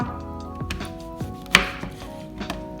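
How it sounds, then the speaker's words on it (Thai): A knife slices through a peeled navel orange on a cutting board, giving several separate knocks and thuds spaced about half a second apart, close and clear with no talking. "คุณแม่ก็จะหั่นแบบนี้ต่อ"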